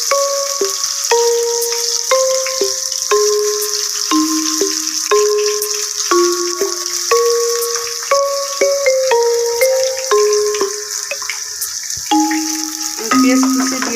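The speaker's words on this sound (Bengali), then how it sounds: "আমি এই তেলের মধ্যে এখন পেঁয়াজ কুচি পরিমাণ মতো দিয়ে দেব।" Chopped onion frying in oil in a pan for a home chicken curry, giving a steady close sizzling hiss throughout, with a stepping melodic tune playing over it.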